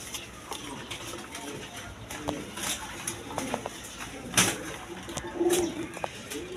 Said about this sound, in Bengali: দর্শকবৃন্দ, এখানে এক পেয়ার রাজগোল্লা কবুতর আছে, একদম কোয়ালিটি সম্পন্ন কবুতর।